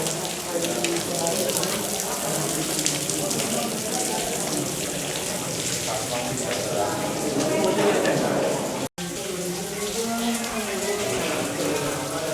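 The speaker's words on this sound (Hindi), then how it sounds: "ये पहाड़ों के ऊपर से पानी टपकता हुआ" After rain, water drips and trickles down from the mountains near a cave site, a dense, steady patter and splash filling the whole stretch with one brief dropout.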